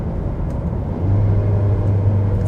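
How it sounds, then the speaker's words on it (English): A 2020 Mercedes-Benz A220 4MATIC with dual-clutch transmission accelerating in sport mode under manual paddle shifting, a steady, loud low engine drone heard from inside the cabin that swells and holds a firmer hum partway through. "So let's try out the manual shifting here in sport mode and see how that does."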